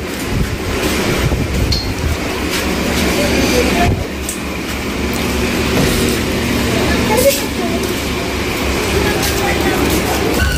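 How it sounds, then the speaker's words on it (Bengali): A Kolkata local train on the Sealdah–Princep Ghat line pulls out of Majerhat railway station with a loud, steady rumble and rattle of carriages, heard from on board with voices beneath. "অবশেষে আমাদের ট্রেন মাঝেরহাট রেলওয়ে স্টেশন থেকে ছাড়লো।"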